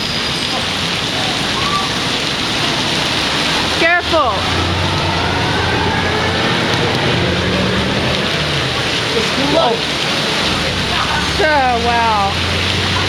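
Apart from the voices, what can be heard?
heavy summer rain pouring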